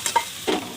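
Spice paste fries and is stirred in a pan for a meat curry, with a few short scraping stirs and a soft sizzle, close and fairly quiet.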